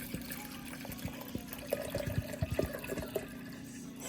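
Purified water pours into the tank of a CVS ultrasonic mini humidifier, a quiet liquid trickle with small splashes and drips that thicken in the middle and then taper off.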